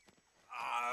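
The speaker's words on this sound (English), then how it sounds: "Love that guy's death noise." An enemy soldier's death cry in the video game Metal Gear Solid 3: Snake Eater: a loud, drawn-out voiced yell that bursts in after a quiet moment and holds to the end.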